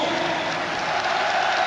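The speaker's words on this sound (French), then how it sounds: "Vincent Guérin qui sort sous les applaudissements du public du parc." A football stadium crowd at the Parc des Princes applauds a player leaving the pitch during a Champions League match between PSG and Bayern Munich. The sound is a steady, dense wash of clapping that continues without a break.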